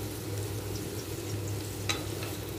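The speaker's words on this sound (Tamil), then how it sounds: "கோல்டன் எல்லோ கலர் வர அளவுக்கு நம்ம வெங்காயத்தை நல்லா வதக்கணும்" Onions for mutton biryani sizzle steadily in hot oil, a soft continuous frying hiss up close with a brief stir near the end.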